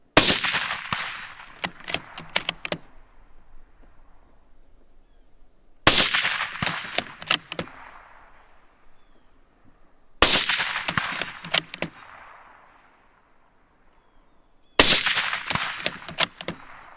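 Four rifle shots fired with Remington ammunition, spaced several seconds apart, each a sharp, loud crack with a decaying tail. A steady high insect-like whine runs between the shots.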